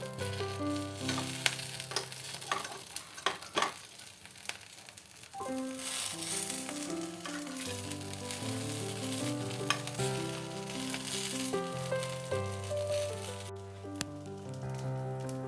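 Stuffed green chillies fry in a pan with a bright, steady sizzle and occasional crackles and turning scrapes, heard under background music.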